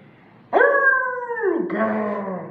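A single long canine howl rises sharply, holds, then slides down and continues in a lower, wavering tone; loud and close, with no talking.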